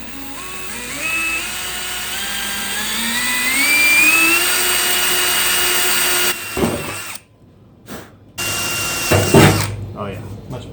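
A power drill with a small pilot bit whines steadily for several seconds, its pitch climbing as it spins up, then cuts off into brief bursts and short stops, while drilling to fit fender flares on a Jeep XJ.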